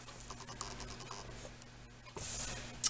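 A paper trimmer cutting a letter-size sheet of cardstock: faint scratchy ticks and light tapping, then a short, smooth swish of the blade sliding across, ending in a brief crisp snap, all close and quiet.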